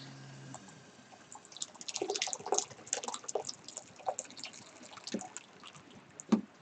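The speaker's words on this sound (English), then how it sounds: "I can hear the boiling." Water heating to a boil in a pottery studio, with faint scattered bubbling, pops and small splashes at a modest distance, and no one speaking.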